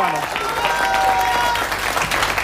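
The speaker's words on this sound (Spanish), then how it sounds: "Aplausos para Daniela." A studio audience applauds a contestant in the Miss Café Sin Censura pageant, loud sustained clapping mixed with cheering and whoops, with tonal voices or music riding over the crowd.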